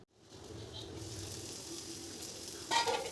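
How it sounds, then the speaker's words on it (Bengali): Spiny gourd (kakrol) fries in a pan with potato and onion, making a continuous close sizzle, with a brief louder splutter near the end and no voices. "পেঁয়াজটা একটু আলু আর কাঁকরোলের সাথে ভাজা হয়ে আসলে"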